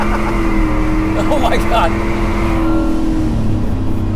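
A 770whp Ford F-150 shop truck spinning its tyres: steady loud engine roar with a brief screeching tyre squeal in the middle, heard from inside the cab as an occupant exclaims.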